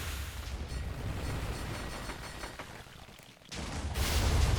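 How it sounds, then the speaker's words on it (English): Booming explosions in the Minecraft-based game Jujutsu Craft, a dense continuous roar of blasts with a deeper, louder surge near the end. "All of my explosions just missed there."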